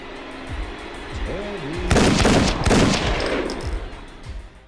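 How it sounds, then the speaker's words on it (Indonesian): Bursts of rapid gunfire erupt midway, loud and sustained for a couple of seconds, amid a movie soundtrack with a low voice beforehand. "Terry yang sadar kalau yang memberondong tembakan adalah Grip"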